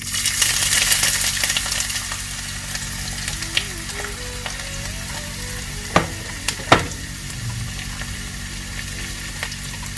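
Ginger pieces fry in hot oil for a Kerala Onam sadya inji curry, a dense continuous sizzle up close, with a few sharp metallic clinks of a spoon against the pan and light stirring, no talking.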